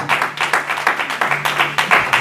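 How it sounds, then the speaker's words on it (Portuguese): A church congregation gives a brisk round of applause with rhythmic clapping, close and fairly loud, over a faint low tone. "uma salva de palmas por essa palavra"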